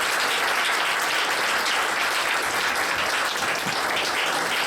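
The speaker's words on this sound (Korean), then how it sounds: "우리 용기내서 간증해 주신 우리 황지연자매 다시 한번 박수 드리겠습니다" A church youth service congregation applauding after a testimony, sustained dense clapping filling the room at an even level throughout.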